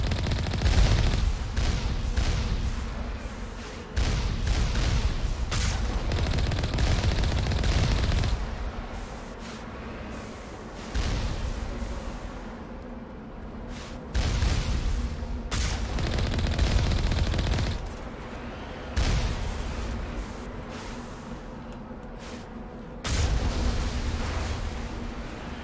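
Turrets on a tank fire in Mass Effect Legendary Edition: loud, heavy bursts of rapid gunfire that come in long blocks, broken by short pauses, with booming impacts rumbling beneath.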